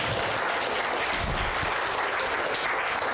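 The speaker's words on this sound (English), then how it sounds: "Y'all have been very generous with the applause" Audience at an improv comedy show applauding the actors, a dense, steady wash of clapping throughout with no talk over it.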